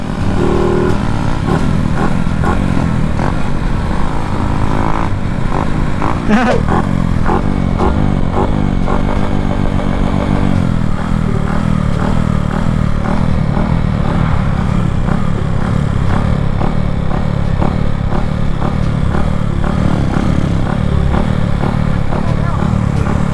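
A motorcycle engine roars and revs loudly and continuously, with clattering mechanical noise and voices in the background.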